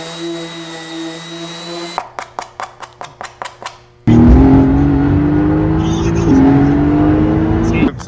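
A heavily tuned Mercedes S320 engine, first humming at idle, then ticking through a series of sharp clicks before bursting into a loud, sustained rev whose pitch climbs steadily.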